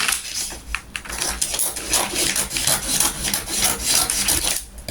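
The back piece of a blouse pattern is cut out, with repeated close rasping and rubbing strokes in an uneven rhythm and no talk.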